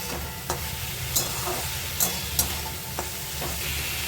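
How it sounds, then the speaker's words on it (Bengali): Leafy greens hit hot oil already frying with onion and green chilli. A constant close sizzle runs throughout, punctuated by irregular sharp spatula taps and scrapes against the pan, with no voices. "এরপরে ভালো করে ভাজা হয়ে যাওয়ার পর শাকটাকে দিয়ে দিলাম, দিয়ে ভাজবো"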